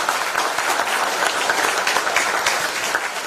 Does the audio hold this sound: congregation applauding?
yes